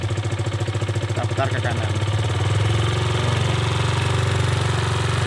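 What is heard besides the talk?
Kawasaki KLX 150 G motorcycle engine idling at higher RPM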